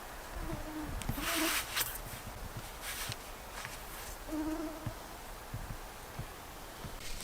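Insects buzzing at a campsite in Finland, a faint whining drone with a couple of louder passes close by against quiet outdoor background, no talk.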